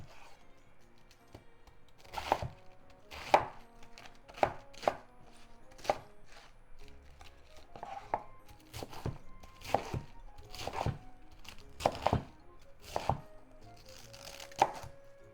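Kitchen knife chopping cabbage into small bite-sized pieces on a cutting board, close crisp thunks in an uneven rhythm, a dozen or so sharp cuts with short pauses between.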